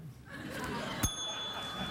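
A single sharp ding of a hand bell pressed on a late-night talk show set rings out clearly, with a bright lingering tone, over audience chatter and soft laughter.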